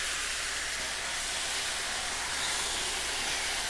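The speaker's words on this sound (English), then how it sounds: "Oh, you hear that sizzle? It's so nice." Pork tenderloin sizzles loudly in a hot pan after garlic solids are removed, a continuous, bright hissing crackle that holds steady throughout without any speech.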